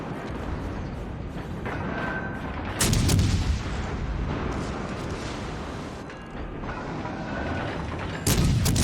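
Heavy naval guns boom in a World of Warships Legends battle, with repeated loud broadband blasts at about three seconds and again near the end over continuous rumbling battle noise.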